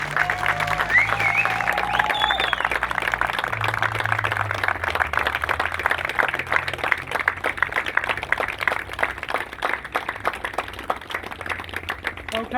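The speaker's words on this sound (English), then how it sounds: "parents, can we just give them another huge round of applause?" Parents at a Year 6 school leavers assembly give a long, loud round of applause, dense clapping filling the hall steadily throughout with no pause.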